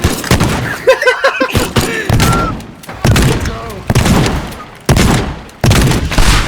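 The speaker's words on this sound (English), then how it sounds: "Hold on, I got a shotgun, hold on, I got a shotgun." Shotgun blasts in the destruction game Teardown, several loud, sharp booms spaced irregularly with short decays, mixed with bursts of game noise and a voice talking between shots.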